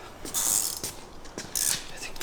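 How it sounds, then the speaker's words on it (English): A ratchet with a 5/8 inch socket tightens a skid plate bolt on a Jeep JL Wrangler, giving two quick bursts of close, crisp clicking separated by a short pause. "I think this is going to require a 5/8 inch socket."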